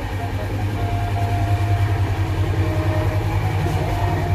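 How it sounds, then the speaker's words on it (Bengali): Steady, loud rumble and rattle inside a moving Shatabdi Express carriage, with a constant low drone and rail noise running through the whole stretch and no talking. "ট্রেনের ভিতর যেহেতু ভিডিও করেছি, তো তার দরুন প্রচুর সাইড থেকে নয়েজ এসছে"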